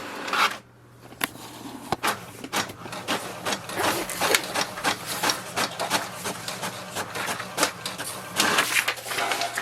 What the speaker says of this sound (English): the printer will print a page and it will display HP network configuration page